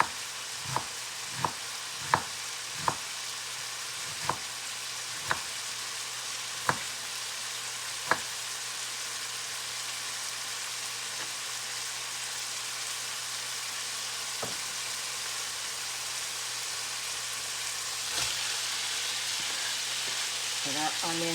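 Brussels sprouts fry in a pan with a steady, soft sizzle, while a utensil taps and stirs sharply a few times early on; no one speaks.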